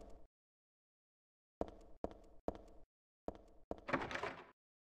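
A locked door being tried in the horror video game Silent Hill 3: a series of short, loud rattling thuds in quick bursts, ending in a longer, harsher clatter, with no talk over it.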